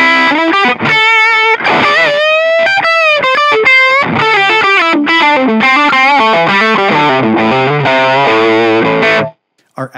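An electric guitar played through a TONEX amp model preset rings out with heavily distorted, effected chords and sustained bends, loud and continuous for nearly ten seconds before cutting off abruptly.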